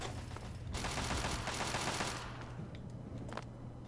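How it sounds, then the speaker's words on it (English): Gunfire in the video game Fallout 3, a steady spray of rapid shots for about two seconds that then thins to scattered distant pops, with no talking. "I'm hearing bullets."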